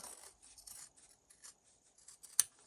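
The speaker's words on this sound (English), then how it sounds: "I am just going to cut this out very close to the stitching mark, but not through it" Scissors snip through quilted fabric close to a line of stitching on a fabric basket: several quiet, close cuts in an uneven rhythm, ending with one sharper snip.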